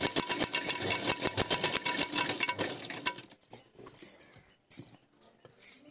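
A sewing machine stitches a hook onto a blouse, running in a fast, rhythmic burst of close mechanical clatter for about three seconds, then giving a few softer, sparser taps.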